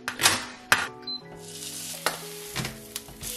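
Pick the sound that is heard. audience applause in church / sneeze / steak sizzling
steak sizzling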